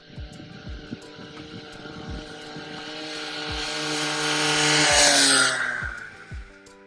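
Minibike engine fitted with a 3D printed intake, running at speed with a rising buzzing drone that swells louder toward the end as the bike passes, punctuated by rhythmic thumps.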